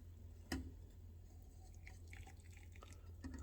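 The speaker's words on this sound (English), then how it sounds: "I'm just going to pour from the pan right in there" An oatstraw herbal infusion is poured from a pan through a tea strainer into a cup. There is one brief splash, then quiet, soft trickling and dripping.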